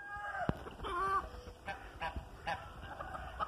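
A farmyard goose honks beside a pond with ducks, giving a few short nasal calls up close amid rustling background noise.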